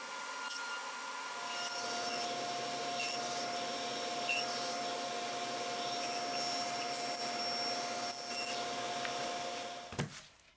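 A power saw cuts wooden project parts, making a steady, moderately loud whine and rasp that runs unbroken for about ten seconds and ends with a sharp knock.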